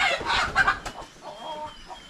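Free-range farm chickens cluck and squawk in short bursts nearby, fairly faint with brief pauses between calls, no talking.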